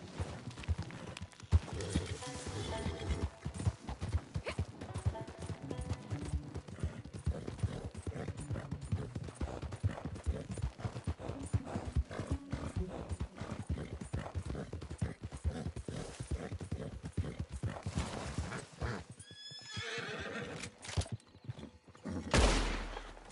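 Horse hooves clip-clop in the Red Dead Redemption open multiplayer beta, a rapid continuous gallop of game hoofbeats with bursts of gunfire, and someone speaking Spanish near the end.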